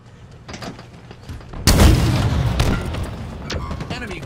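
A rocket explosion in Halo Infinite ranked arena play, a single sudden deep boom with a rumbling tail, preceded by quieter game sounds and muffled voice chatter.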